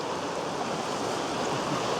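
Creek water flows steadily on East Fork Dickey Creek in the Montana wilderness, a continuous broadband rush with no pauses, close and fairly loud, heard alone without voices.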